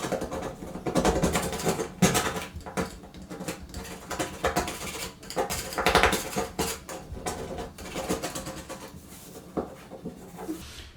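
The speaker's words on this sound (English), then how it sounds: "We want to give the edges a scrape." A tool scrapes the edges of a plaster wall patch flat, giving a busy, continuous run of rough scraping and clattering strokes at close range, steady throughout with no talk.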